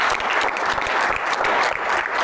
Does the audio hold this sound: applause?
yes